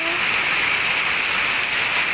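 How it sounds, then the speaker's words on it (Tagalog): Heavy rain heard through a window, a dense, steady, loud hiss of pouring water that fills the whole stretch without a break. "Hindi po ako makalabas kasi ang lakas ng ulan."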